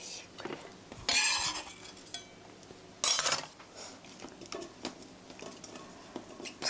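A knife works through an onion on a cutting board, cut into thin 0.3 cm slices after the root end is trimmed, with two sharp chopping bursts among lighter scattered taps and clicks, close and alone.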